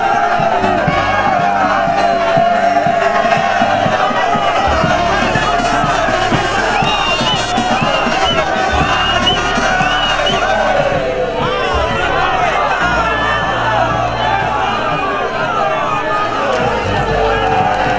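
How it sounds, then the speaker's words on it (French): A large crowd roars, cheers and chants continuously in an ovation for the head of state as he walks along Avenue Salongo after dark in Kasaï Oriental, with a voice speaking over the steady, loud hubbub. "Il a été ovationné par la population"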